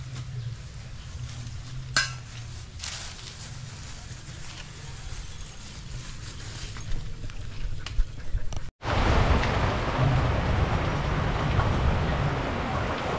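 Rain comes on suddenly outdoors, a steady broadband hiss that jumps to a loud, dense downpour partway through after a quieter stretch with a few knocks.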